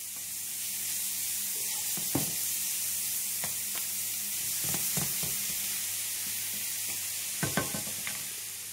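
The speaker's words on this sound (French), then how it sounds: "Donc la poêle bien chaude, je vais rajouter mon oignon ciselé. Je fais bien revenir l'oignon et l'ail." Chopped onion and garlic frying in a very hot pan over high heat, a constant soft sizzle broken by occasional sharp clicks of a utensil stirring, close and with no voices.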